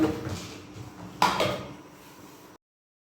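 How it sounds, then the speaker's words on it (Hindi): A metal weight is set onto a pressure cooker lid with a single close metallic clank and a brief rattle, following soft kitchen handling noise, then it fades to silence without speech. "अब इसके ऊपर वेट रखती हूँ।"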